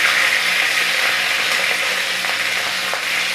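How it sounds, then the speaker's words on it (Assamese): A big fish head frying in a pan, giving a steady, loud, close-up sizzle of hot oil that runs unbroken throughout with a few faint crackles on top and no talking. "একেলগে ভাজি লৈছোঁ, তেতিয়া সুবিধা হয়।"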